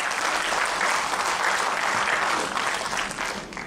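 Sustained applause from a large audience at a leadership lecture, dense and steady throughout, tapering slightly near the end.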